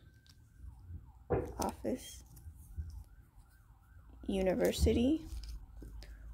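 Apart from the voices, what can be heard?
sirens in the background outside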